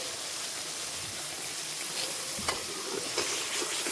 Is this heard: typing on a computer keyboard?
no